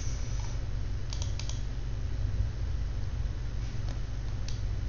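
Quick light taps on a computer keyboard while typing a web search, a few soft scattered clicks over a steady low hum of background noise, with no talk.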